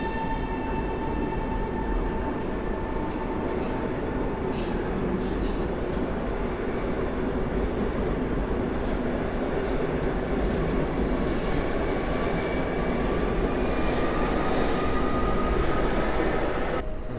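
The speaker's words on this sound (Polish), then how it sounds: "Rusza Intercity Leśmian." Intercity train departing Warsaw Central station, a steady loud rumble of rolling wagons with faint high squeals, continuous throughout.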